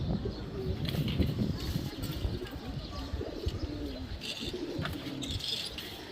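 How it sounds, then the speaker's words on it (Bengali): A male racing pigeon coos in repeated low, throaty rolls among other pigeons in a loft, with occasional light chirps and a brief wing flutter in a moderately quiet, steady background. "এটা হচ্ছে নর কবুতর"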